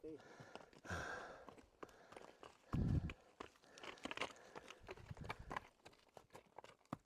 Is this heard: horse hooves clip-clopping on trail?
yes